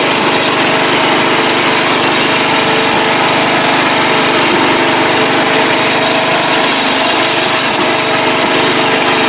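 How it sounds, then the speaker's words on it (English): A propane-fuelled race lawn mower with a flathead engine runs steadily and loud throughout, a close, continuous buzzing drone with no voices. "I like this mower. This thing's freaking decent."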